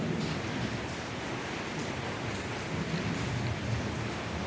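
Steady rain falls through the night, a constant broadband hiss without distinct drops or gaps, fairly faint and unbroken, with no voices.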